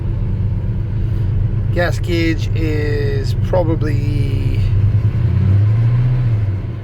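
A 1985 Chevy Squarebody engine runs at a steady idle, a continuous low rumble throughout, with someone talking over it for a few seconds.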